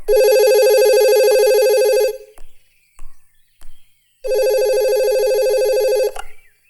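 A telephone rings loudly and close, two long electronic trills separated by a pause with a few faint clicks in between.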